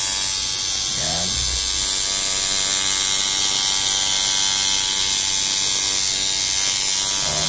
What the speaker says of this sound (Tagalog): Pwede siya pang shader itong machine na to.